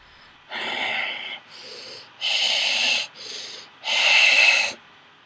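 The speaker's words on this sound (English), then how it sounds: "On the other line was deep breathing." Slow, heavy breaths come in a steady rhythm, long hissing inhales and exhales with short pauses between, close and slightly harsh as if heard through a phone.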